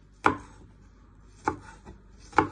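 A knife chops garlic cloves into small pieces on a board. Three sharp, separate chops land about a second apart, close and clear against a quiet background.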